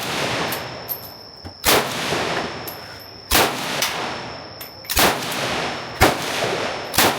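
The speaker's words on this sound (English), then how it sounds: "and I opted for the AK-47." An AK-47 fires single shots at a shooting range in Vietnam, with a sharp, loud crack roughly every one to one and a half seconds and ringing echoes between shots, including one quick double shot.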